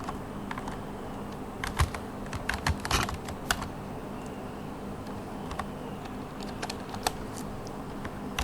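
Typing on a computer keyboard, a close run of crisp, irregular key clicks with a brief flurry in the middle and scattered taps after, over a faint steady hum.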